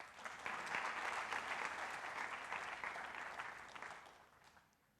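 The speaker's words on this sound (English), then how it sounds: "I think that's worth applause." Audience applause at a student induction program, a brief, fairly faint burst of steady clapping from a crowd that swells quickly, holds for a few seconds, then fades away.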